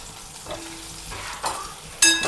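Stuffed brinjals sautéing in a pan, a soft low sizzle with a few scrapes of a spatula and a brighter burst of frying noise near the end; no voices.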